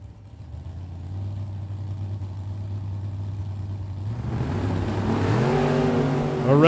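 A drag-racing Chevrolet Beretta and Camaro sit with engines rumbling near the line, then rev up into a rising, loud launch roar that climbs in pitch toward the end.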